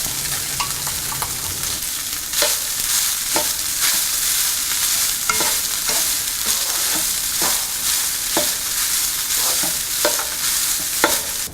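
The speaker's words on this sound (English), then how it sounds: "add cooked basmati rice, grated coconut and mix well." Cooked basmati rice and grated coconut are stirred in a hot pan, a steady frying hiss punctuated by regular spoon scrapes and taps against the pan, close with no voices.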